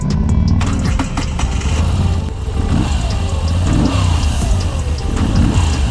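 A 2023 Moto Guzzi V7 Stone motorcycle engine runs steadily nearby, a deep, throbbing idle with a lumpy low rhythm and slight swells, heard alone without talk.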